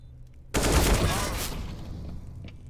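A sudden loud burst of AK rifle fire in Counter-Strike on the Nuke map, cutting in sharply and then trailing into a rattling echo that slowly fades.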